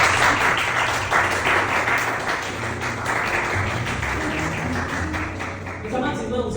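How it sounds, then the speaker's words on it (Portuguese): A church congregation applauds in a dense, steady wash of clapping that runs the full length, with a voice and some music or murmur underneath, easing slightly toward the end. "aplauda Jesus mais uma vez"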